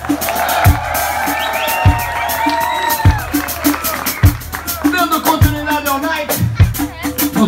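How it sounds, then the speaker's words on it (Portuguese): Crowd clapping, cheering and whooping for a tenor saxophone player at a carnival ball, loud and lively over a thumping band beat with people shouting. "uma salva de palmas para Josué."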